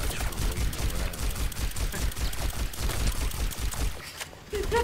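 Rapid gunfire in the video game Overwatch, dense bursts of shots crackling almost continuously at full loudness before briefly dropping off near the end.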